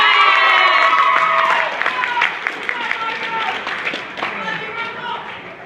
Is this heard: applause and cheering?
yes